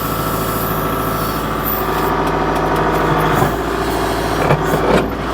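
A Kubota L47 tractor-loader-backhoe's heavy diesel engine runs steadily and loudly while digging, with a chugging low rumble, a few metallic clanks and knocks near the end.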